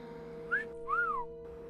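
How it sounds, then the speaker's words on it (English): A short whistle in the background of a ghost-themed puzzle game: two rising-and-falling tones, the second longer, over a steady electronic hum, no talking. "What was that whistle in the background?"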